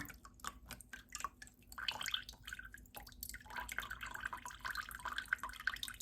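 Water drips and trickles from soaked acacia cuttings draining, with irregular close drips and a light splashing trickle, faint and quiet throughout.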